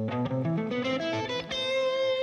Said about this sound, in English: I'm playing my new signature guitar, which is going to come out this year. This is the Ibanez MMN1.